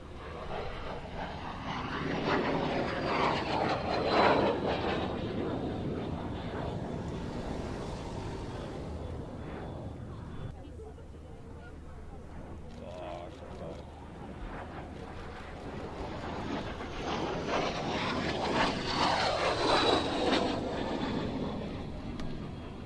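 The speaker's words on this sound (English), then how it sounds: "enjoy the sight and sounds of this MiG" A MiG-15 jet fighter roars past in the distance at an airshow, swelling and fading twice with a whistling whine over steady wind noise.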